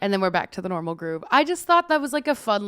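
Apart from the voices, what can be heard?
None of the usual background noises is heard.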